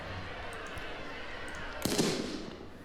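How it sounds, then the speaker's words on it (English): A smoke grenade pops and hisses out in the riot game Riot Civil Unrest, a sudden burst near the end of a steady, noisy crowd-and-gameplay background. "I'm going to go ahead and throw another smoke grenade."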